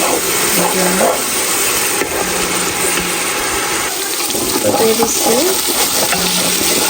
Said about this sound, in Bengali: আর এখানে হচ্ছে পেঁয়াজটা ভাইজানো করছে